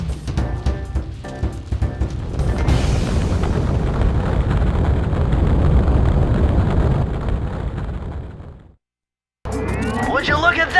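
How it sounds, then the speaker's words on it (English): Fireworks explode in a Sly Cooper cutscene over a mountain village, a sustained rumbling roar of bursts building for several seconds before cutting to silence, then resuming with crackling noise. "Would you look at that? A fireworks show!"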